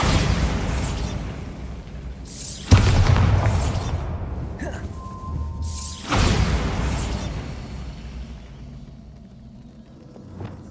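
Heavy explosions from a Bombarda blasting spell in Hogwarts Legacy, two loud booming bursts a few seconds apart, each followed by rumbling debris that slowly fades.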